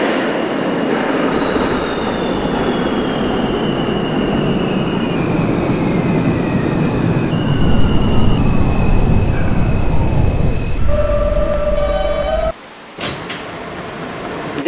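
A Manhattan-bound F express subway train in the Openbve simulator rumbles loudly along the track with squealing wheels and a descending whine, then slows, hums at rest, and a door thumps.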